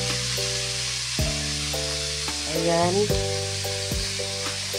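String beans sauté in a pan with a steady, close sizzle. A few stirring scrapes come through, and one brief spoken word is heard.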